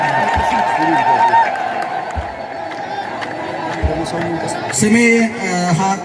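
Crowd at an Orthodox church feast celebration for the Nativity of Mary, a steady wash of voices with cheering and ululation, dense and continuous throughout, with a louder burst of shouts near the end.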